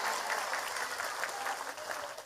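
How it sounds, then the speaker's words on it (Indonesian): Applause for the organizers at an Eid al-Fitr religious gathering, a short burst of fairly soft, continuous clapping from a crowd, heard without any voices. "Tepuk tangan dulu dong buat panitianya."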